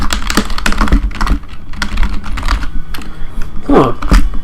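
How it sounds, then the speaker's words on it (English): Rapid keystrokes on a computer keyboard with a final harder tap like hitting enter, irregular clicking bursts close up, no speech. "just type the word clear and hit enter"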